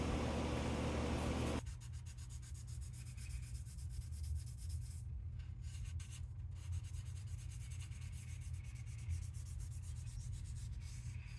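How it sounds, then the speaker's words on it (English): Steady hand sanding of a metal hub from an LT250R quad, the sandpaper rubbing in a continuous scratchy stroke after a brief louder opening, close up with no talk. "I started with a lower grit sandpaper and worked my way up to 2000 grit."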